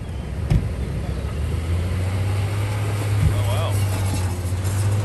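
Overland rig creeping up a sand slope at about 3 mph on Bunker Industries traction boards along California's Lost Coast, with a steady low engine drone throughout and a sharp thump near the start under the rising motor.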